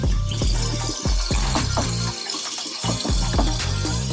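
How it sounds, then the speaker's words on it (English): Tap water pouring into a container in a home kitchen while making meatloaf and gravy: a close, continuous gushing splash with irregular knocks and gurgles, loud and steady for a few seconds with no talking. "I'm gonna fill it up with some water."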